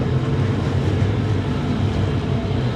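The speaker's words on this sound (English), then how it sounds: "We're gonna stay down here with a nice loud engine" A loud, steady engine drone rumbles up close aboard a boat on the East River, heard from below deck, a constant low roar with no talking over it.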